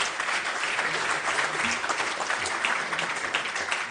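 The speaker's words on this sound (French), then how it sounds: "Vous pouvez applaudir Jean-Pierre Raffarin." An audience applauds Jean-Pierre Raffarin at a colloquium on French departments; dense, steady clapping from many hands fills the room throughout, close and even.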